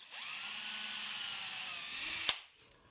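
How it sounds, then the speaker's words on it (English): Power drill boring a hole in a plywood drawer front, a steady high whine for about two seconds ending in a sharp click as the bit breaks through, then quiet. "Then I'll drill a hole at those marks,"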